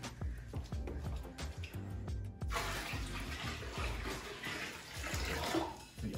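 Boiling water from a pot poured into a bathtub during a broken heat pump, a steady splashing gush that swells after a brief start with faint clinks; no talk.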